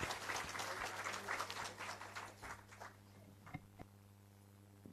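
Audience applause welcoming a guest at a Patanjali Divya Yog Mandir Trust rural livelihood event, a broad wash of clapping that is fairly loud at first and then thins into scattered claps over a steady low hum.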